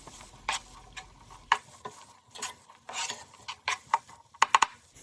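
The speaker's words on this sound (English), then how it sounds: "Add in some of the garlic and give that a stir." Onions and garlic stirred in hot oil for shakshuka, with a soft sizzle beneath a series of sharp scraping and clinking hits of a utensil against the pan, irregular and getting busier toward the end.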